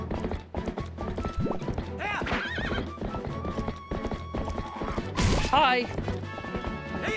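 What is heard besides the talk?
horse hooves galloping in the video game Zelda Twilight Princess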